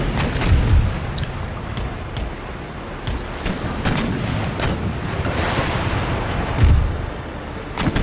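Ship cannons firing round shot in a naval battle in Empire Total War, dull booming reports scattered across a steady rumble of distant battle noise, a few heavier thuds standing out.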